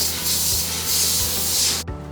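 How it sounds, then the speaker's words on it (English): Glass pickled radish jars are wiped down by hand in a production line, giving a steady close rubbing swish that repeats in short strokes before stopping abruptly near the end. "All the jars get wiped down."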